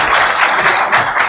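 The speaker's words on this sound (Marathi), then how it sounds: "तुम्ही जोरदार टाळ्या वाजवून त्यांचं अभिनंदन करा" A crowd claps loudly for the administration at an outdoor village public meeting in Daribadchi, Maharashtra. The dense, steady applause lasts the whole moment with no pause.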